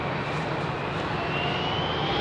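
An Airbus A380 jet taking off from runway 27R at London Heathrow, a steady broadband engine roar heard from a distance, constant in level with a faint tonal whine.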